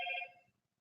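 Phone notification chime, a single short electronic tone that rings clearly and fades out within half a second in a quiet room.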